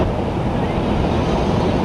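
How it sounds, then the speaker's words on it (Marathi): Water flowing down the slopes of Brahmagiri mountain near Trimbakeshwar, Nashik, a steady broadband rushing wash, loud and continuous, with wind buffeting mixed in and no speech. "किती छान पद्धतीने ते पाणीसुद्धा वाहत चाललेलं आहे"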